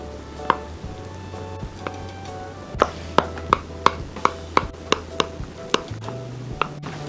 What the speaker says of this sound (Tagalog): Ngayon po ay pwede na nating hiwain dahil medyo malamig na po itong ating cassava cake.